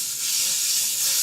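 Bacon frying in a little olive oil in a deep, heavy-based pot, a close, continuous bright sizzle and hiss, steady and alone with no talking.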